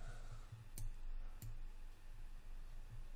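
Computer keyboard and mouse clicks while working in Maya 2017 animation software: a few sharp isolated clicks spaced about a second apart, close and crisp over a steady quiet room hum.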